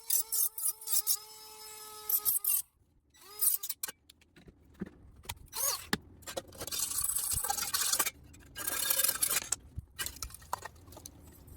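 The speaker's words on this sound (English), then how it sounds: "Rest the edges off with the file so they're not super sharp, and so they're all cleaned up." A hand file scrapes and smooths the cut edges of an interior panel being fitted for a large screen in a Lotus Esprit, in short rasping strokes broken by pauses, close by, with no talking.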